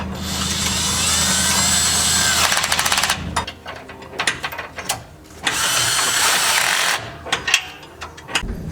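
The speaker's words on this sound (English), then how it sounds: "actually drill holes out" Loud, harsh power-tool drilling through a Jeep JK rear bumper in two sustained bursts, with a gap of clattering, tapping sounds between them.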